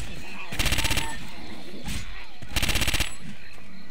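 Gun blasts in the zombie shooter game Left 4 Dead come as two short, loud bursts of rapid automatic fire, each about half a second long and separated by a pause, over a low background of game noise.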